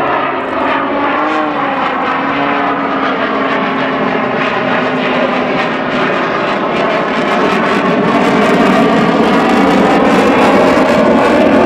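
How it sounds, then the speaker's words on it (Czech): An Extra 300 aerobatic propeller plane at an air show roars past in a gentle knife-edge pass, a loud, sustained engine drone whose pitch sweeps as it flies by, alongside the Gripen fighter display. "a letoun Extra 300 v mírném nožovém letu"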